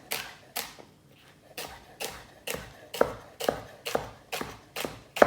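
A kitchen knife chops steadily on a cutting board, about ten sharp, evenly spaced knocks, close and fairly quiet, with nothing else heard.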